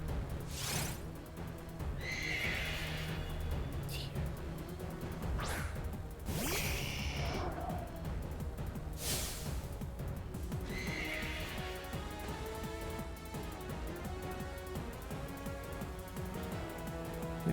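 An icy horse in the Pokemon Sword video game neighs and whinnies in short bursts over a busy game soundtrack, with whooshing swishes around it.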